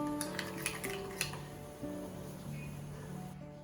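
A spoon stirs a curd mixture with salt in a bowl, giving faint, irregular clinks and soft scrapes against the vessel in a quiet kitchen.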